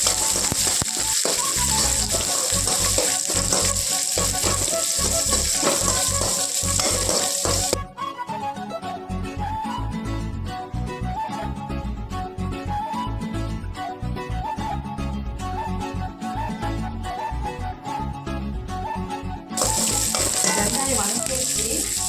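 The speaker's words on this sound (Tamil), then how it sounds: "கொஞ்சம் கடல் பாசி, வரமிளகா, வெங்காயம், சின்ன வெங்காயம், கொஞ்சம் கருவேப்பிலை, இதெல்லாம் போட்டு நல்லா வதக்கலாம்" Onions, shallots, dried red chillies, curry leaves and seaweed sauté in a pan for a village-style duck curry, a steady loud sizzle with scraping stirs, easing briefly in the middle before returning.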